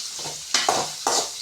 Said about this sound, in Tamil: போட்டுட்டு நல்லா வதக்கிக்கலாம்.